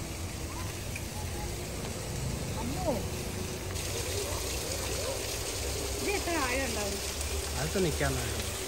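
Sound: small flow of water trickling down at Areekkal waterfall

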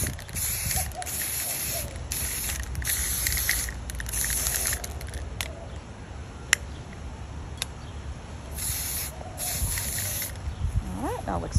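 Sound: spray painting a wine glass with Colorshot wine stain spray paint

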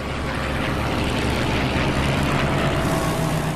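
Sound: fighter plane engine roar

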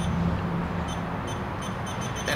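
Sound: CO2 monitor leak detector beeping

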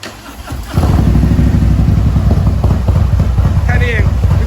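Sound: Harley-Davidson motorcycle engine starting

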